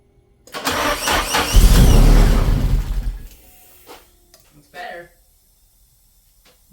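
An older car being started after months of sitting: a loud cranking and catch that runs roughly for about two and a half seconds, then dies on its own, followed by faint clicks, rattles and a brief voice.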